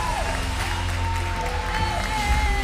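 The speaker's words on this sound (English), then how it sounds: "Give them a round of applause, ladies and gents." Applause and some cheering from the crowd at an apprentice competition finale, sustained clapping mixed with background music and crowd murmur.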